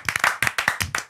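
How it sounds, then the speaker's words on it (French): A few people clap in quick, uneven bursts, the sharp slaps close and distinct rather than a large crowd's roar. "Ça s'applaudit."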